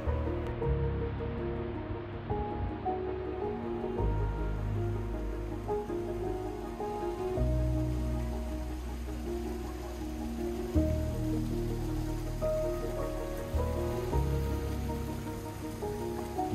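Water from a mountain creek on Echo Mountain, California rushes and splashes continuously, a steady close-up flow with a faint hum of music or tones underneath.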